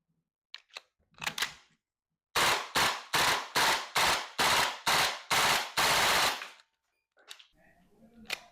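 APFG SIG MCX Spear LT 11.5-inch airsoft gas blowback rifle running on a CO2 magazine fires eight sharp, evenly spaced shots at a fairly slow rate, each a loud crack with a brief tail, followed by faint handling noises.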